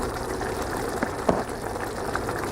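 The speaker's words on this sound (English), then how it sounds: "Now, once things are boiling like this," Tomato spaghetti sauce boils in a pot over a flame, giving a steady low bubbling hiss broken by occasional soft pops, with no talking.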